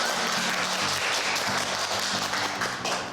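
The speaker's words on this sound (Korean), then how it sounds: "박소영 씨 박수 좀 부탁드립니다" Audience applause for an MBC news anchor about to give a lecture in a classroom-style studio, a steady, dense wash of clapping that carries on unbroken for about three seconds with no talking.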